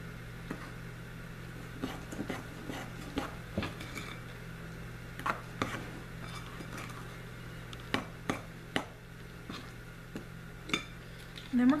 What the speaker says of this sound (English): To this, we're going to mix this thoroughly.